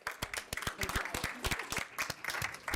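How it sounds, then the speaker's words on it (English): A round of applause from the audience at a school board meeting: a dense patter of many hands clapping, steady and fairly close, running for a few seconds with no talking. "Another round of applause to him."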